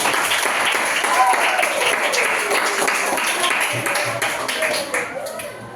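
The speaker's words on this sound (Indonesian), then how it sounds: "Sekali lagi tepuk tangan yang meriah." A classroom of students gives a lively round of applause, dense clapping that starts loud and gradually tapers off, with some voices mixed in.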